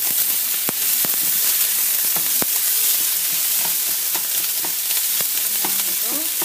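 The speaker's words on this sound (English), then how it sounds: "till the onions is transparent or translucent. And you just keep on stirring." Onions sauté in a pan with a loud, constant sizzle while they are stirred, and occasional utensil scrapes and taps cut through the frying hiss.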